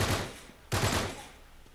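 Enemy gunfire in the action video game Uncharted 3: Drake's Deception, two dense bursts of shots with a brief gap between them, loud and close with no talking.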